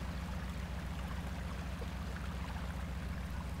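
Continuous rushing water in the video game Spintires: MudRunner, with a low, steady rumble underneath, even and unbroken throughout, no voices.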